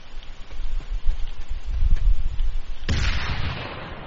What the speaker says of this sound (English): We can throw a grenade their way.